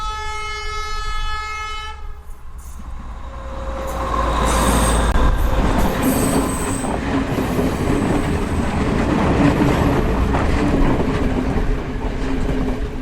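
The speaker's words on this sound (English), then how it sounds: "We also get to the railway tracks at the edge of the golf course, just as the train is approaching." A train horn sounds in steady tones, then a train rumbles closer along the tracks beside a golf course in Sri Lanka, its rolling wheels and clatter swelling loud and continuous.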